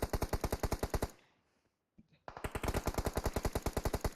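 Rapid automatic gunfire in PUBG Mobile during a competitive match, loud and close: one fast burst, a brief pause with a single shot, then a second sustained burst.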